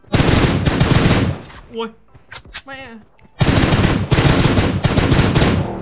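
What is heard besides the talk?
gunfire in the video game PUBG Mobile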